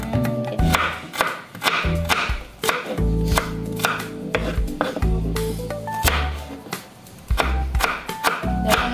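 An onion is chopped with a knife on a board in a rapid, uneven run of loud, close thuds, with short pauses between the bursts of cuts.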